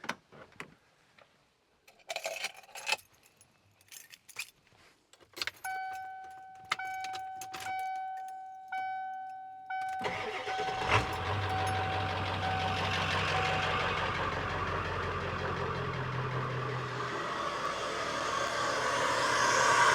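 A 7.3 diesel engine cranks over and catches after a stretch of quiet clicking and rattling, then settles into a loud, steady, clattering idle that holds close by for the rest of the clip.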